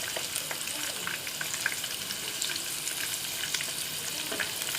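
Brinjal slices frying golden brown and crisp in hot oil, a steady close sizzle with scattered crackles and pops running throughout, no voices.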